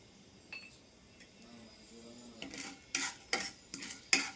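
Cumin, chana dal and urad dal frying in a pan, heard as a quiet low sizzle at first, then a series of sharp metallic spatula scrapes and clinks as the mixture is stirred.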